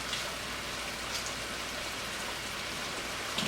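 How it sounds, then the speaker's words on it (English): Food sautéing in butter in a frying pan gives a steady, even sizzling hiss throughout, close and unbroken, with no talk over it. "So I'm going to continue letting these saute in this butter."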